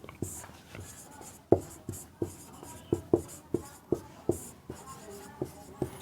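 Quick strokes of writing on a classroom board during a Class 10 physics lesson on light: a dozen or so crisp taps and scrapes in an irregular rhythm, close and fairly clear over a quiet room.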